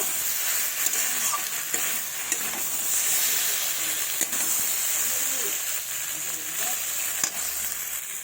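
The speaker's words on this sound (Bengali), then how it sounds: "দিয়ে আমি ভালোভাবে এটাকে নেড়ে নেবো কিন্তু দেখুন এইভাবে আরেকটু কষিয়ে নেব" Fish curry masala frying in a pan while being stirred, a steady close sizzle with periodic scraping and knocking of the spoon against the pan.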